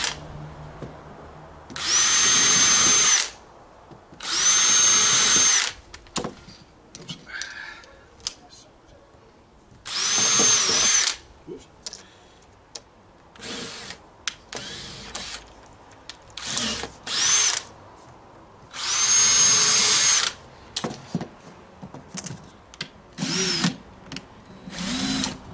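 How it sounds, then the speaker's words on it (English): A power drill drives screws into wooden end blocks on a model railway baseboard, whirring in about six loud bursts of a second or two each, separated by quieter pauses filled with handling clicks and knocks. "Bang a couple more screws in this."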